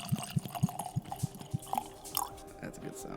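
Whiskey poured into a glass, a rhythmic run of glugging, splashing drips close by, with a voice speaking softly near the end.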